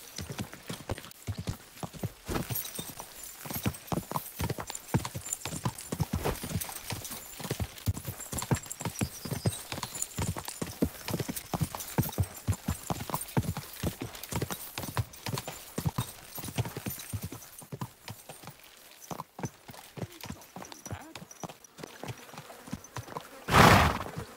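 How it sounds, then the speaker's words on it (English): Horse hooves clip-clop in a steady, rapid rhythm on a hard surface for a long stretch, fairly close, ending with a brief loud whinny. "what a beautiful horse"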